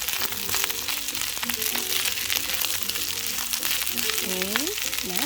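Carrots sizzling in a hot pan for Hawaiian fried rice, a steady loud frying hiss throughout with occasional stirring scrapes and a brief tonal squeak near the end.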